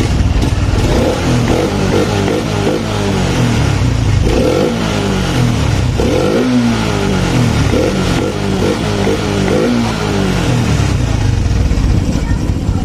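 A Honda Supra X 125 injection motorcycle engine after a tune-up fires up and settles into a fast, even idle, with several brief throttle rises and falls close by while someone talks over it.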